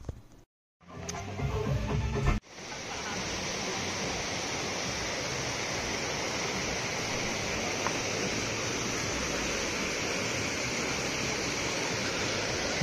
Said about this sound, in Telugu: బాగుంది కదా, చిన్న స్ట్రీమ్